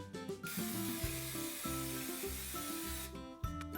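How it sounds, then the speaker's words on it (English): A steady hiss of aerosol cooking spray sprayed onto a donut pan runs for nearly three seconds over light background music, close by and fairly even in loudness. "We're just going to spray this with some cooking spray first."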